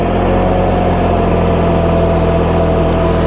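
An Allis Chalmers tractor engine idles a little fast at a show, giving a loud, steady, close-up low rumble with an even throb and no talk.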